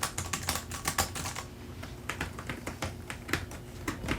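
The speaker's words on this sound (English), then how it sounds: "I absolutely love this mechanical keyboard." Fast, continuous clacking of mechanical keys on an Alienware x17 gaming laptop keyboard with stainless steel switches, heard close and fairly quiet, with no voices.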